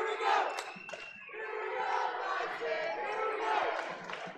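Crowd noise at a girls' high school basketball game, a broad sustained roar of voices and cheering rising and falling throughout, with the ambience of a gym and no clear single voice on top.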